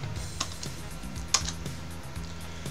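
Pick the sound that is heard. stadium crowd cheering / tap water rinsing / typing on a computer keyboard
typing on a computer keyboard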